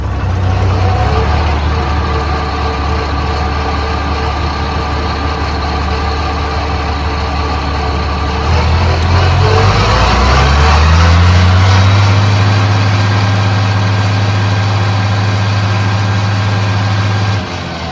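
A New Holland tractor engine cranks over and fires at a hay farm, settling into a steady, loud low-pitched diesel idle that runs on without voices.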